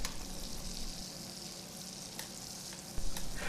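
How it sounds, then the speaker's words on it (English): Shrimp frying in bacon grease in a pan, a dense, steady close-up sizzle with a brief louder burst near the end. "we're going to put it right into the same pan with that bacon grease and cook it for a minute or two on each side"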